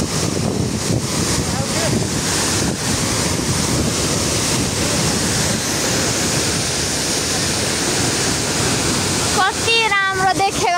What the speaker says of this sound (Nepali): यो झर्नालाई चाहिँ मनमोहक झर्ना पनि भनिन्छ